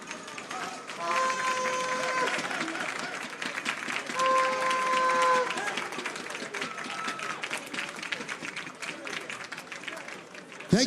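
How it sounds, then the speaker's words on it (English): An audience at a school quiz competition grand finale applauds continuously with dense, steady clapping throughout, while a voice carries over it through parts of the stretch. "a round of applause, a round of applause."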